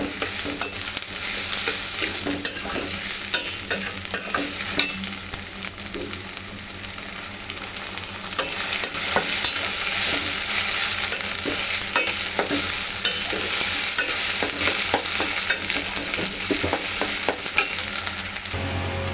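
Onion masala with ginger and garlic stir-frying in a pan for chicken and potato curry, a loud continuous sizzle with constant scraping stirs throughout, no voices.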